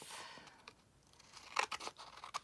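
Scissors snip a craft tag cut from a paper napkin, a few soft, close crisp cuts and rustles of paper that grow into quick clustered snips toward the end, with no talk.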